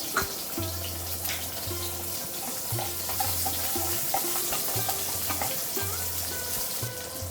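A medium-sized sliced onion frying in a pan, heard as a soft continuous sizzle with some light crackling and a recurring low background hum.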